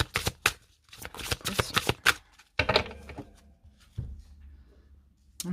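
A deck of tarot cards being cut and shuffled by hand: quick, crisp riffling flutters and soft slaps in close, dry bursts, settling into faint rustles toward the end.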